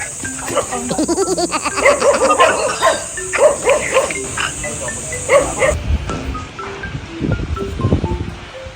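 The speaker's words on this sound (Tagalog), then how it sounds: "May mga aso nga." Dogs bark repeatedly at close range in uneven bursts of sharp barks and yelps, then the barking thins out into scattered calls.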